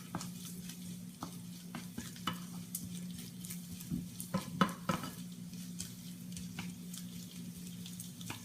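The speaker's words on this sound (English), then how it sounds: "Can you hear the sizzle?" Steady frying sizzle of brussels sprouts in a pan, with scattered clinks and scrapes of a utensil stirring them; no voices.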